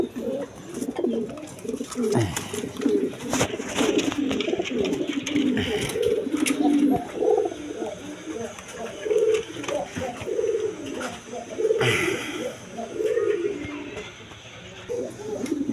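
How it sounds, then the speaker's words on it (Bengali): A pair of beauty pigeons, a cock and a hen, coo continuously and rhythmically up close, with soft rustling and occasional sharp clatter mixed into the steady murmur. "এখানে এক পেয়ার বিউটি কবুতর আছে।"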